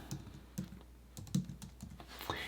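Someone types on a computer keyboard while writing a word in Canva. There are a handful of quiet, sparse keystrokes, a few slightly louder clicks, and soft gaps between them, with no talking.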